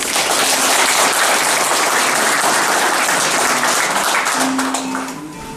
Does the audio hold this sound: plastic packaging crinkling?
no